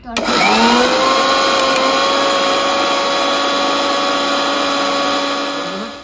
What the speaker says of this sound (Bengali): এবার পেঁপেটা পেস্ট করে নেবো, অল্প অল্প করে পেস্ট করবো।